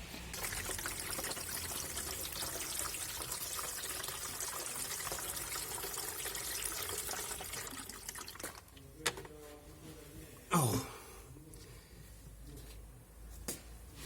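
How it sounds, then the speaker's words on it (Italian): Water is poured steadily into a car's windshield washer fluid reservoir, a continuous trickling stream that stops partway through, followed by a few isolated clunks and handling noises. "metterò l'acqua all'interno e vediamo da che punto esce"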